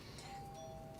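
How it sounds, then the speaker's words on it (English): A doorbell rings in a studio, a soft, distant tonal chime held briefly against a quiet room with no talking. "Did you hear the doorbell?"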